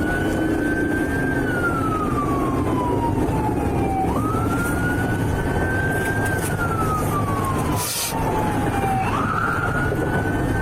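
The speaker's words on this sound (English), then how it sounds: "EMS is rolling out right now." An ambulance siren wails, rising and falling in long sweeps, loud and continuous over steady road rumble, like an emergency vehicle passing close by.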